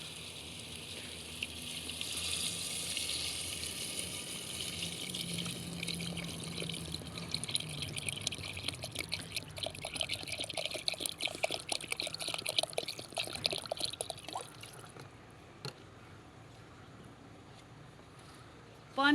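About 1.5 litres of water pours steadily into a pot of chicken yakhni for a long stretch, gushing and splashing, then stops with a few clinks near the end.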